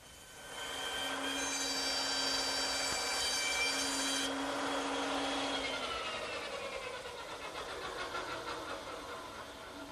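A power saw cutting tenon cheeks in wood, a loud sustained whine that holds a steady pitch for several seconds, then changes and gradually eases off into rougher, lower cutting noise, with no talking.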